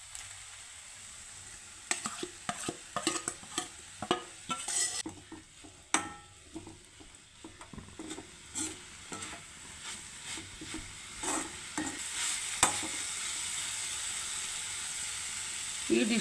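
Ground paste tossed into a sizzling pan of papaya and sprouted gram stir-fry, a spoon scraping and stirring in repeated close strokes over a constant frying hiss.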